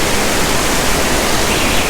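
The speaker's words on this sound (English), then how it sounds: "It's just pouring down." Heavy rain pours onto a Shenzhen street at the base of a tall building beside a subway exit, a dense, even hiss of downpour filling everything with no voices.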